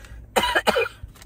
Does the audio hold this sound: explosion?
no